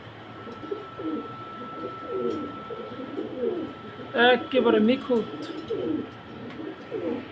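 Pigeons coo in low, soft, repeated phrases close by, steady through the clip, while someone talks over them for much of it.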